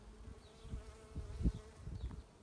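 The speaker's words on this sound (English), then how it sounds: "Tiny little bunch of bees." Honeybees hum softly in an open hive, a faint steady buzz under low, irregular handling thumps nearby.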